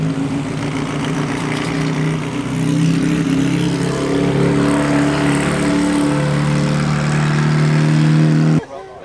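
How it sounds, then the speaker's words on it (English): A very loud scooter engine revs hard and steadily at a UK car show, a continuous close roar that climbs in pitch partway through and then cuts off abruptly at the end. "Johnny's ripping around in a scooter that's super loud"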